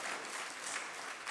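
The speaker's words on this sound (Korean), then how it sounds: "우리 박수로 한번 격려하시겠습니다" A church congregation applauding during a Sunday service, a soft, steady patter of many hands clapping in a brief burst.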